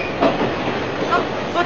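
Steady rumble and rattle of a moving train carriage, with faint rhythmic clacks and a brief murmur of voices inside.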